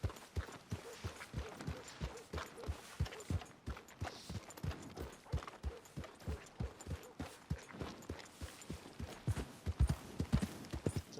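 Horse hooves clip-clopping at a steady walking pace in Red Dead Redemption 2, a regular train of sharp, close hoof knocks continuing for the whole stretch with no talk over them.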